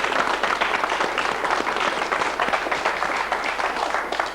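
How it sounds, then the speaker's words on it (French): Steady audience applause rings out for a performer at a 1950 event in Warcq, in the Meuse valley, a dense continuous patter of many hands clapping at even loudness, with no voices over it. "on peut vous applaudir"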